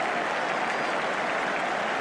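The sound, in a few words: stadium crowd cheering and applauding a goal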